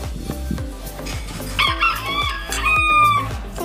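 Chickens clucking with a rooster crowing loudly nearby, a drawn-out crow over a busy rhythm of background clatter and thumps, heard alone without speech.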